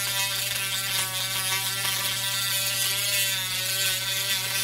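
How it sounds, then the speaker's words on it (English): A power drill bores into a cured resin clutch purse with a steady, buzzing whine. The sound holds close and even for several seconds, with no talk. "I'm just gonna go ahead and drill it because I have to"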